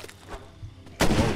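Gunfire from the zombie-survival game State of Decay: a sudden loud burst of shots erupts about a second in, after quiet rumbling.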